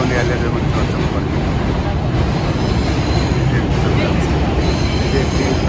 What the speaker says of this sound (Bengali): তো এটি হচ্ছে N ট্রেন এস্টোরেটে এবং কোনি আইল্যান্ডের মধ্যে চলাচল করে।